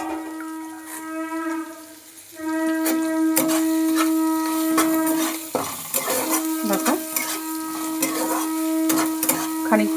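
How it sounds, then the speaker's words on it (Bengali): Crab frying with garlic and onion in a pan sizzles steadily while a utensil stirs and scrapes against the metal, with clinks and knocks scattered throughout, close and clear with no talk. "এবার এগুলো একটুখানি ভেজে নিচ্ছি যতক্ষণ কাঁচা গন্ধ থাকবে ততক্ষণ একটুখানি নাড়াচাড়া করে নিচ্ছি"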